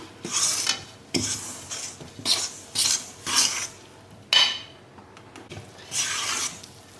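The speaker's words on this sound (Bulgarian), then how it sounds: "Разбъркваме го добре по този начин и ще го оставим в таса." Flour being stirred into a dough mixture in a bowl, repeated scraping and rubbing strokes in short bursts with brief pauses, close and fairly soft, no talking.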